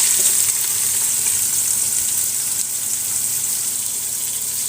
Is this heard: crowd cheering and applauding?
no